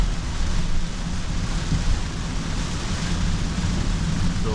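Heavy rain pours steadily on a car driving up the wet mountain road to Genting, a continuous dense hiss with low rumble, close and loud throughout, no voices.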